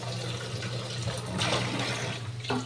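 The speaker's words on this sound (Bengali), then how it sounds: "বাটিটা ধুয়ে একটু জল দিলাম।" Water pours and splashes as a bowl is rinsed and filled while cooking a vegetarian cauliflower curry in a home kitchen, a steady close running-water wash with a low hum underneath.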